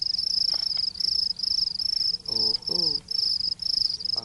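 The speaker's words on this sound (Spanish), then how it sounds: "De grillos." Crickets chirp in a steady, rapid pulsing trill that repeats in regular bursts, while a voice briefly speaks over it partway through.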